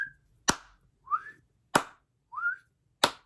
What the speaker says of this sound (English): We whistle,